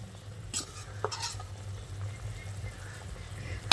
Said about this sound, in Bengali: তো ভাজা মশলাটা দিয়ে আবারও আমের সঙ্গে ভালো করে নেড়েচেড়ে মিশিয়ে নিচ্ছি।